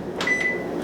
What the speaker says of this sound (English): I'm gonna put this in the microwave and let it melt